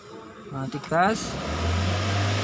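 A car engine is revved under throttle during an intake air temperature sensor test, with a rising whine climbing in pitch and then holding as a steady, loud drone after someone speaks at the start.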